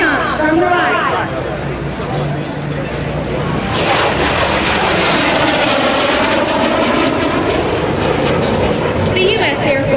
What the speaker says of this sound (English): Jerry's going to be coming back around in the airspace to do a fast banana pass at approximately 400 miles per hour